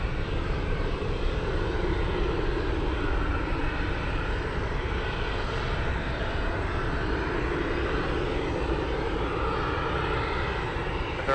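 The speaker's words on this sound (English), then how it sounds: "heavy 747 departed from runway 33, over takeoff" A heavy Boeing 747 takes off from runway 33 at Anchorage airport, a steady broad engine roar that holds at an even level throughout, with no voices.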